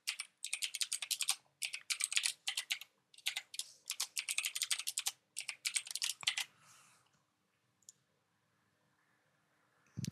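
Typing on a computer keyboard while entering a password during PS5 child-account setup: rapid bursts of close, crisp key clicks in several clusters with short pauses, then a quiet stretch.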